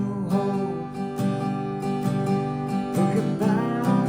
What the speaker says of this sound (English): So the strum version of the verse sounds like this.